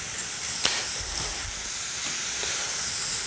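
About half a stick of butter sizzles in a hot pan, a steady close hiss with a few faint clicks over it and no talk.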